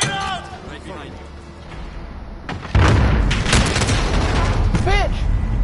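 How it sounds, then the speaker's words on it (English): A grenade explodes with a loud, sudden boom midway through, in a Call of Duty Modern Warfare 2019 match. Game noise and gunfire continue afterward, and players' voices are heard around it. "Grenade out!"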